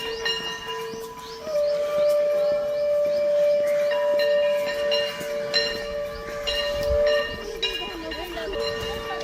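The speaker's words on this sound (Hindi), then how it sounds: "पार्क में घंटी और शंख की उद्घोष से समझ में आ चुका होगा" A sustained conch shell tone holds steady for several seconds while a temple bell rings repeatedly in a park at a morning yoga gathering, with voices murmuring underneath.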